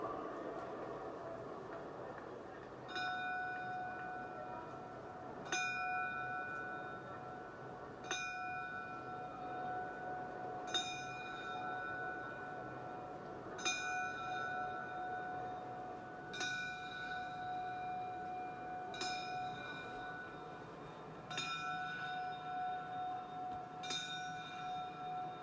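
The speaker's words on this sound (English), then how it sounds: "we ask you to please remain silent as we toll the traditional 10 bells for Enzo Calzaghe" Ten slow, evenly spaced bell tolls ring out at a memorial before a sporting event, each clear strike fading into a steady background hum from a large, hushed crowd.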